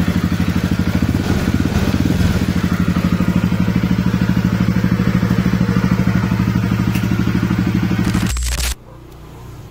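A Honda Click scooter with an overheating problem from a faulty thermostat idles close by after starting, its engine giving a steady, even putter for about eight seconds before cutting off abruptly.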